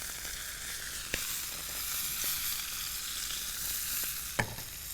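Butter sizzles and fries in a hot pan alongside a beef steak with red wine, a steady close hiss with a couple of brief sharp ticks, no talking.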